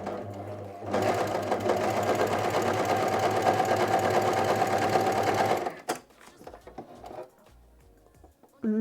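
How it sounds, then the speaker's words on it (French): An overlock sewing machine runs a test stitch with a loud, steady whirring hum lasting about five seconds, then stops abruptly, followed by quieter clicks and handling noises. "Alors je roule d'abord à la main pour vérifier que tout se passe bien et que ça coud."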